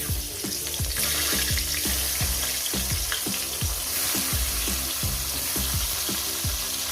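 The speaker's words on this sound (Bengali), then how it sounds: "দেখতে পাচ্ছেন আমি কত সুন্দর করে টমেটোটা আমি ভেজে নিচ্ছি" Tomatoes fry in hot oil in a pan after eggplant, a loud, dense sizzle running throughout with a quick, regular ticking pattern of small pops and bubbling close by.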